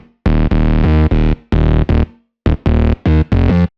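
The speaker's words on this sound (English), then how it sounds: "This first bass I'm going to show you is called Boom, and it sounds like this." The Boom bass preset for Serum, from the Impulse sound bank, hits a series of loud, distorted bass notes in a choppy rhythm with short gaps of silence between bursts.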